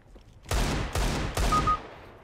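Three loud gunshots from CS:GO, evenly spaced about half a second apart, each with a sharp crack and a short decaying tail, heard alone without voices.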